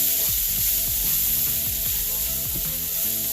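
Vegan shrimp sizzle steadily in a hot pan, a dense continuous frying hiss with faint stirring scrapes underneath, close and unbroken.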